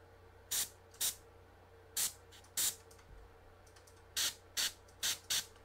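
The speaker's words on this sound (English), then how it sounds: "Quite personally, I usually just spray over the highlights altogether." An airbrush sprays a glaze over highlights in a series of short, sharp hissing bursts with brief pauses between them, close by in a quiet room.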